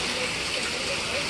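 Heavy hurricane rain hisses in a constant dense wash, steady and close throughout with no breaks.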